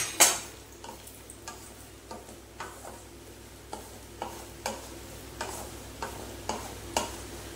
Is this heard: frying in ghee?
yes